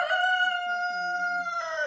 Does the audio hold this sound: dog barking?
no